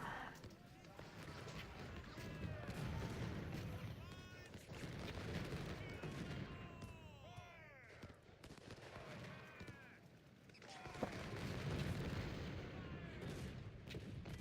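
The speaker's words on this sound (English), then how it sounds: "You need to kill those cannons." Cannon artillery booms in the Civil War strategy game Ultimate General: Civil War, dense rolling battle noise with repeated blasts and crackling fire throughout, while someone talks over it.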